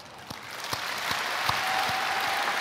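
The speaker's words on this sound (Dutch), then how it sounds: "vraag ik een passend applaus" Applause from a crowd at the opening ceremony of Rotterdam Centraal Station, a steady dense clapping that builds slightly in loudness and holds, with a few sharper individual claps standing out, no talk over it.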